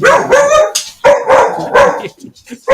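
A dog barks in a series of loud, close barks and yips, mixed with people talking over it.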